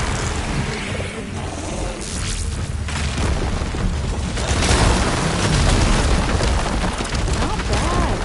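Volatile glowing crystals detonate in a video game, loud rumbling booms that roll on continuously with dense crackling and roaring debris over several seconds.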